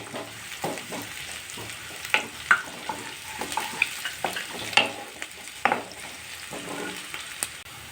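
Onions and green chillies frying in oil for pasta, a soft continuous sizzle under repeated utensil clicks and scrapes as they are stirred, close by and fairly quiet, with no voices.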